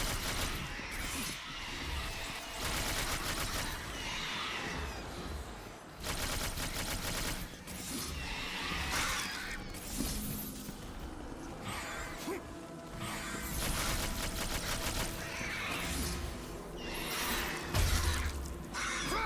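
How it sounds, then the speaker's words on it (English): Exploding harpies in God of War 3 burst amid dense, loud game combat with repeated crashes, shattering blasts and rapid bursts of impact, a constant wall of action noise. "Exploding harpies!"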